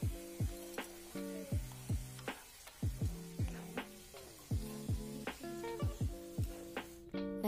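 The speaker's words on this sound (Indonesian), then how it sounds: "Kita masukin dan kita aduk-aduk, kemudian tambahkan secukupnya air" Potato, carrot and chicken filling for pastel sizzles in a frying pan as a spoon stirs it, with regular scraping strokes repeating about twice a second over the steady frying hiss, close and clear.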